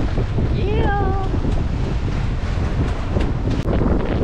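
Strong morning wind buffets the microphone while sailing at sea, a constant loud rush mixed with water noise; a brief tonal whistle sounds early.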